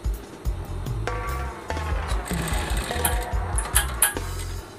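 Domestic sewing machine stitching a shirt cuff, a steady close whirring run broken by brief pauses and restarts, with no talking over it.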